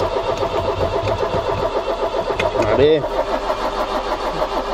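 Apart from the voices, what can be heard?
Iveco 35-8 diesel engine cranking and trying to start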